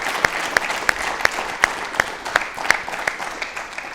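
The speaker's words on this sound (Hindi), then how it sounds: "ताली हो जाए जोरदार" A small studio audience claps steadily for several seconds on a Doordarshan Rajasthan yoga talk show, producing a modest, even patter of applause with a few sharper slaps.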